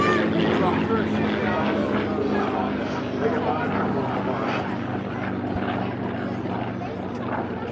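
F4U Corsair and P-51D Mustang propeller aircraft flying at an air show, a continuous droning engine roar under a loudspeaker announcer's talk.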